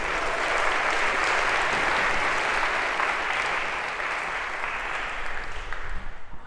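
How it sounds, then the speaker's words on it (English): A lecture hall audience at a Harvard CS50 computer science class applauds a volunteer coming to the stage, a loud, sustained, even roar of clapping that tapers slightly near the end. "round of applause for our volunteer"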